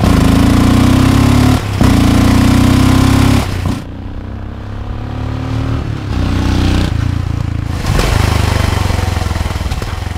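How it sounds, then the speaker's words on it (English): A Royal Enfield 650 Interceptor twin-cylinder motorcycle runs loud and close with a throaty, old-school engine note. It dips briefly around the middle, then settles back into a steady drone. "the engine sound is quite different. It sounds more like an old school engine."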